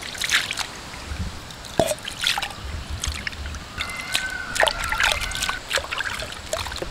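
Water is poured into freshly ground masala for a drumstick leaf curry, giving soft, close drips, trickles and small splashes in irregular bursts over a quiet background.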